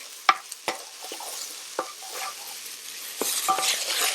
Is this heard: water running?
no